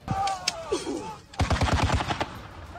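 A burst of rapid gunfire from Russian soldiers in Sumy, Ukraine, a fast run of sharp cracks following a brief whistling, chirping sound.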